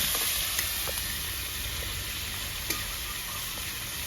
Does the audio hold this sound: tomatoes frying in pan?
yes